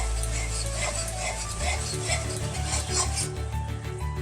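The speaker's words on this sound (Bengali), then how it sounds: "মশলাটা দিয়ে অনবরত একটু নাড়াচাড়া করতে হবে তা না হলে মশলা নিচ থেকে ধরে যাবে এইভাবে বেশ খানিক্ষণ একটু ভেজে নিতে হবে" Thick spice paste sizzles steadily in a hot pan while a spoon scrapes and stirs it continuously, a close, even frying hiss with rubbing strokes throughout and a voice speaking over it.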